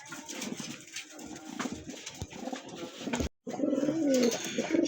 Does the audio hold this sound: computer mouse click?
no